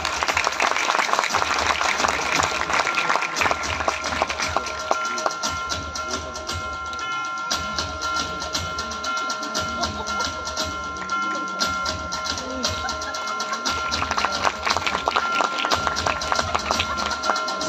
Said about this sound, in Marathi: जोरदार टाळ्या व्हायला पाहिजे यांच्यासाठी